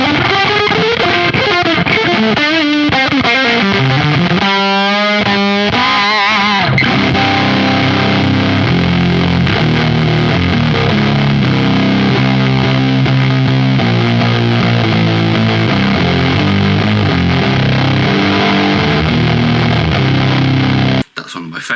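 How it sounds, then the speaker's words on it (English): Thick guitar fuzz pedal distortion going wild, a dense saturated wall of buzzing tone with warbling, oscillating squeals early on and heavy chugging riffs after, loud and continuous until it cuts out at the end. "Favourite fuzz tones, when you just let it do its thing and go batshit crazy."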